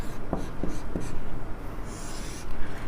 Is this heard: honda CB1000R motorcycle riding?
no